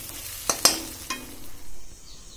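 Dry fish chutney scraped from a pan into a bowl with a spoon: a few sharp metallic clinks and scrapes, then a soft sliding scrape, close and clear, with no talk.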